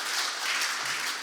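A church congregation claps in thanks at a Sunday Hindi service, a brief, dense wash of applause heard close and steady throughout.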